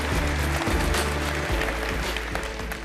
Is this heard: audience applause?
yes